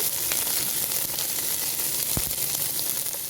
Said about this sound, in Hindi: अदरक लहसुन को 2 से 3 मिनट अच्छी तरह भूनेंगे।